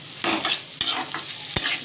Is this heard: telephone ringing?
no